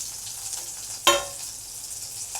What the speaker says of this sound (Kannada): ಜೀರಾ ಇವಾಗ ಚೆನ್ನಾಗಿ ಚಟಪಟ ಆಗ್ತಾಯಿದೆ